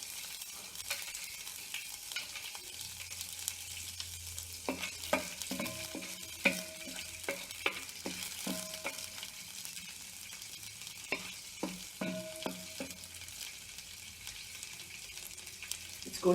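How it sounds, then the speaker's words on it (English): Pepper kernels roast in a pan over a low to medium flame, producing a faint steady sizzle broken by scattered clicks and small scraping taps from stirring, quiet and close, with no voices. "you just release the pepper kernels into the pan"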